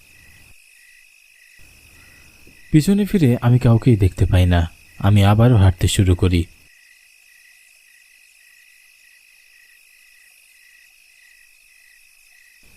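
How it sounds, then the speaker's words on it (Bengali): Crickets chirp steadily through a rainy night in a Bengali horror cartoon, a constant high trilling that runs from start to finish, with a narrator speaking over the middle part. "ঝিঝি পোকাদের ডাক"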